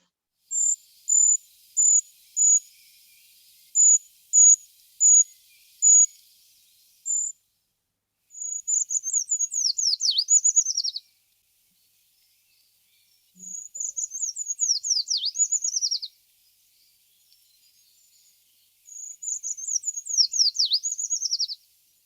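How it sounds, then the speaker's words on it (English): A tiny woodland bird, one of Europe's smallest, sings a thin, high, silvery song that descends and grows louder at the finish, repeated in three bursts, with separate sharp high chirps before them and nothing behind. "It's thin, high pitched, which descends progressively with a sort of a fluty, silvery song."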